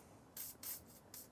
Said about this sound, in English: We'll just kind of spray everything while we're here, I think.